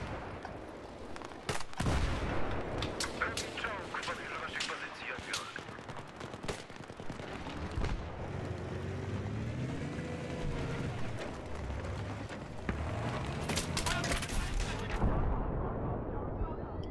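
Rapid bursts of gunfire crackle alongside heavy booming explosions in Battlefield 3, loud and continuous, with game rumbles and impacts throughout.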